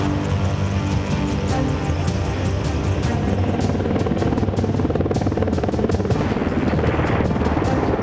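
A Boeing Apache attack helicopter flies close and loud, its rotor and turbine roar filling the air steadily with a rapid chopping pulse that grows more distinct toward the end.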